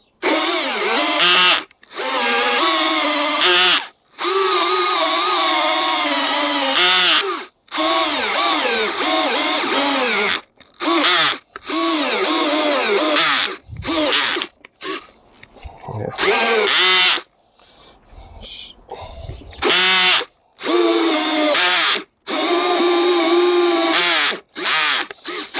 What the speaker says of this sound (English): I only bought this drill, so it's making funny noises.